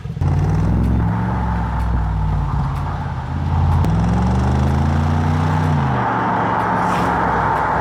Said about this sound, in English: So this car has a 4-liter Mercedes hand-built V8 producing around 500 to 600 horsepower